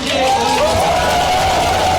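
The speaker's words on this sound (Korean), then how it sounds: "여러분 큰 박수 부탁드립니다." An audience at a political event in Korea cheers and murmurs as a loud, continuous crowd roar with a rising whooping voice on top and only faint clapping.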